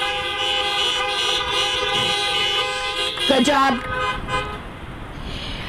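Several car horns honk together at an outdoor 2020 school graduation ceremony, sustained overlapping tones held for several seconds before fading, with a brief voice speaking near the end.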